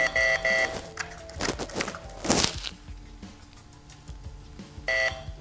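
A Festool ETS EC 125 sander gives electronic beeps when its power button is held: a short tone near the start, another near the end, with handling clicks and rustling between them.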